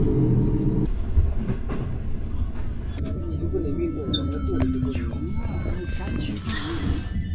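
A passenger train heading toward the border rumbles steadily with rhythmic rail clatter and carriage rattles, heard from inside the crowded car while people's voices murmur in the background.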